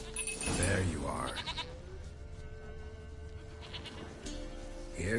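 A goat bleats loudly in The Witcher 3, one long wavering cry close by near the start, followed by quieter game ambience and a voice talking.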